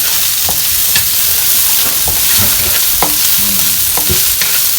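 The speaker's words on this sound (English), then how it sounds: "So first we're going to put our onions inside with our chili." Onions and chili fry in a pan while Mexican-style taco filling is stirred, a steady sizzle with repeated scraping and clinking of the utensil against the pan, close and continuous.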